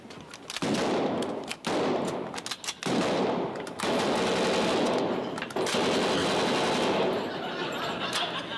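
Lewis gun machine-gun fire in a Dad's Army comedy scene, loud sustained rattling bursts with brief gaps, broken into several long volleys over the whole stretch.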